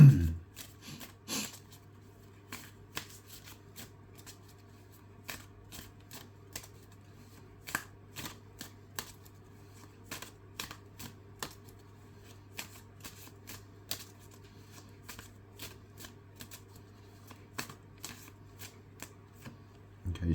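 A deck of tarot cards is shuffled slowly and quietly for about twenty seconds, with scattered light flicks and taps over a low, steady background hum.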